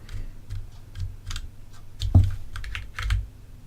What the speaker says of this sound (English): Okay, so we're moving with the arrow keys.